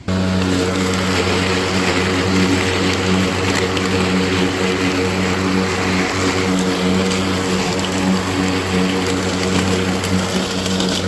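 A Badger 40V electric lawnmower cuts grass, giving a continuous, loud, humming whir with a steady droning pitch and no pauses or voices.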